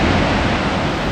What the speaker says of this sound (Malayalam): അടിപൊളി വെള്ളച്ചാട്ടോടാ.